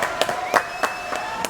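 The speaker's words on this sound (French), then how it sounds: "Applaudissements" A handful of sharp claps fall in an even, steady rhythm in a French TV show studio, with a sustained tone running underneath.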